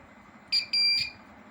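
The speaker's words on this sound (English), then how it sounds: "Now, this is just to test the sound of the buzzer." A homemade solar inverter's low-battery buzzer sounds two clear electronic beeps, a short one and then a longer one, alone against a quiet background.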